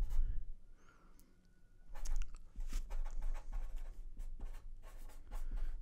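A pen scratches across paper as a math problem is worked out by hand, with short, brisk strokes close to the microphone after a quiet opening.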